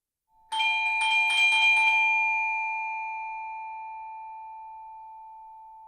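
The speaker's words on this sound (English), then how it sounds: "We both make our way to the door and Darwin presses the bell" A doorbell is pressed at a front door, giving a quick series of four or five rapid chiming rings followed by a long, clear tone that slowly fades away.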